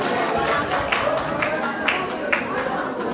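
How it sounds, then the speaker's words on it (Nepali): Audience at a Nepali community group's annual UK gathering applauding as a guest is called to the stage, a steady wash of clapping and crowd noise throughout with a few sharper claps standing out. "उहाँलाई फेरि पनि जोरदार ताली दिनुहोस्।"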